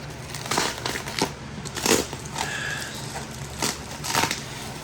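Close, crinkly crackling and crumpling of bubble wrap and packing tape being unwrapped from an amplifier, with scattered bursts of rustling as material is pulled and handled.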